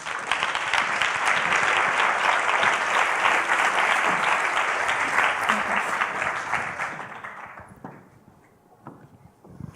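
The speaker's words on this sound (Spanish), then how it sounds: "un fuerte aplauso para ella." A conference audience gives a speaker a strong round of applause, dense sustained clapping from many hands that holds steady for several seconds, then fades away near the end.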